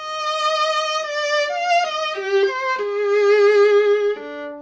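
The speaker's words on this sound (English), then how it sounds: "neither of these is as good as continuous vibrato" A bowed string instrument played with continuous vibrato carries a smooth, sustained melodic line, each note wavering gently as it passes into the next, close and clear with no talking.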